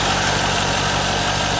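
A 1998 Corvette C5 V8 idles steadily after its first start since a harmonic balancer replacement, giving a loud, continuous low rumble with even throbbing pulses and no talk.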